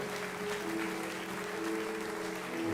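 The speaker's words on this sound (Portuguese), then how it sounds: "Aleluia, aplauda o Senhor." A Baptist church congregation applauds during a sermon, a soft, distant, steady patter of clapping with a faint hum beneath it.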